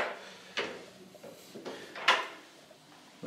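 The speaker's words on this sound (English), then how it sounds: "Then thumb turn here to unlock the door." A thumb-turn lock on a hotel bathroom door, at Dakota Hotel Eurocentral, gives several short, close clicks and clunks. They are spaced irregularly over a few seconds.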